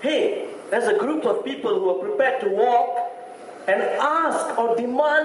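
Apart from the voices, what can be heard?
No distinct noise like a dog, phone or traffic.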